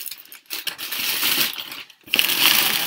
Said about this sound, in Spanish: Perdón por el ruido, estoy abriendo el paquete.